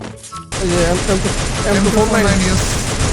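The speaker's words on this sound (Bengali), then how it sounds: "আমার মেশিন গান আপডেট হইছে এম সিক্সটিতে" An M60 machine gun fires in Free Fire zombie mode, a rapid rattling burst starting after a brief pause and continuing densely and loudly, with a voice speaking over the gunfire.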